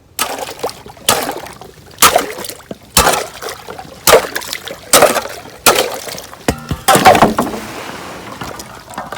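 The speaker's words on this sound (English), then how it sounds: "I'm just gonna grab an axe real quick and just chop that out to make sure they have access to water all day here" An axe chops frozen ice out of a water tub at a barn in winter, giving about eight sharp, close strikes roughly a second apart, with faint watery splashes and clinks between blows.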